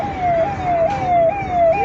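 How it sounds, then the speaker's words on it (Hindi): Police car siren at the Amarnath Yatra, a loud, close electronic wail sweeping in repeated rising-and-falling cycles over faint road noise, with no talking. "पुलिस की गाड़ी,"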